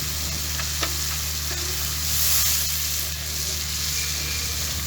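Spice masala with yogurt, green chilies and dried mint sizzles steadily in a pan for Indian achari aloo, a constant close frying hiss with light stirring clicks and no talking.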